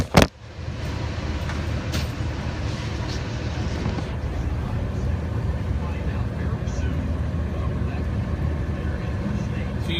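Freightliner SportChassis truck with 28,000 miles on a test drive, a steady loud rumble of engine and road noise running continuously after a brief knock at the start.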